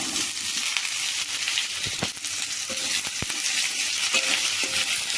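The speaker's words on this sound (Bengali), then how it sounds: "আলু আলু পেঁয়াজটাকে একদম সুন্দর করে একদম ভাজবো" Potatoes and onions with garlic frying in a pan, a loud continuous hiss and sizzle with occasional clinks and scrapes of stirring, close and without talk.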